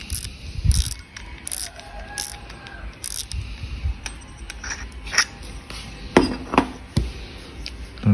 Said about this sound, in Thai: เดี๋ยวไปดูระบบ คลิกเสียงกันหน่อยครับ